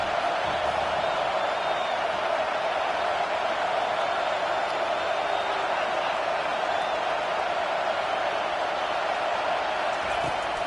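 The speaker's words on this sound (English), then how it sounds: "Decibels rising as the crowd gets behind this defense on 3rd down." A football stadium crowd roars steadily on third down, a dense, sustained wall of cheering and noise with no letup.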